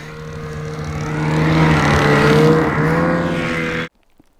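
A snowmobile roaring past on snowy ground during a snowstorm, its engine drone swelling to a loud close peak, then holding before cutting off abruptly into near silence.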